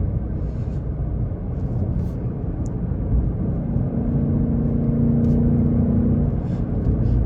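A 2024 Ford Mustang GT with manual gearbox, performance pack and active exhaust drones steadily while driving on twisty mountain roads, a deep continuous rumble with a faint rising engine note in the cabin.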